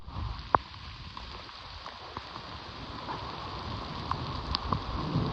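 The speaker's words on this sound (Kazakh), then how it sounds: "Жаңбыр от души қиды." Heavy rain falling in a forest near Kokshetau, a steady wash of drops on surfaces with a few sharper nearby drips standing out, moderately quiet and continuous throughout.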